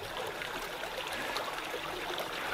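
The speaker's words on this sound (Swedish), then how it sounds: "Jag älskar såna här skogsbäckar som rinner ner från sluttningarna." A forest stream trickles steadily down a slope, a continuous close, even wash of running water with no pauses throughout.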